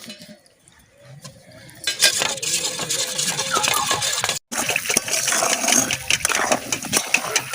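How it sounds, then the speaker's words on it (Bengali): Cornflour stirred into five cups of grape juice for a grape barfi sweet, producing a continuous close scraping and sloshing of utensil against a pot that starts quietly and then grows busy and steady. "এটাকে ভালো মতো মিশিয়ে নেব আঙুরের রসের সঙ্গে"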